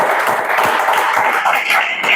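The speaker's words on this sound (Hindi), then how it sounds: "जोरदार ताली बजाओ।" A classroom of students clapping loudly together, a dense, steady patter of many hands lasting a couple of seconds.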